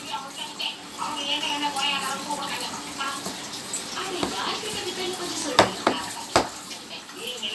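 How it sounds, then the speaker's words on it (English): A spoon scrapes and knocks against a bowl while atta flour, salt and water are gently stirred into chapati dough, soft irregular clinks and scrapes with a couple of sharper taps near the end. "and gently stir."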